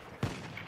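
A single RSC rifle shot rings out in Battlefield 1, a sharp loud crack with a brief decaying tail, followed by a fainter second report near the end.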